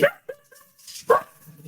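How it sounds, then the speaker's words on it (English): A mastiff barks in the background indoors, two or three deep, resonant woofs separated by short pauses, moderately loud, alone without talk. "Sorry about that, that's my dog in the background."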